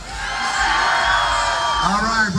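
A large crowd at the 2012 U.S. Diesel Truckin Nationals cheers and yells for cannon-launched T-shirts in a loud, continuous roar of whoops and shouts, steady and close throughout.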